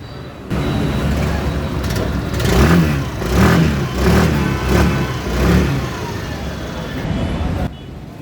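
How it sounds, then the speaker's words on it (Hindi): A 2025 Suzuki Access 125 scooter starts up and its engine runs close by, with the exhaust note rising and falling through several blips of throttle before cutting off. "अभी मैं स्टार्ट करता हूँ, अभी हो जाएगा देखना। अभी इसका एग्जॉस्ट नोट भी सुनते हैं।"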